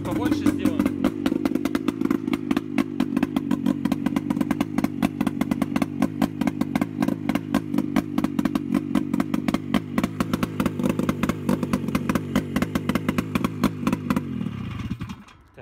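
An ATV quad bike engine, repaired after a starter fault, idles up to higher revs in a workshop. It gives a rapid, steady, pulsing engine clatter, loud and close for about fifteen seconds, then stops abruptly.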